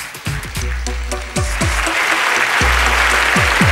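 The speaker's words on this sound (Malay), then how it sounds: "Berikan tepukan sekali lagi kepada tetamu terhormat kita." Audience applause honouring distinguished guests at a 2007 charity ceremony, a dense, steady clapping that builds and holds throughout, with a few louder voices and calls cutting in over it.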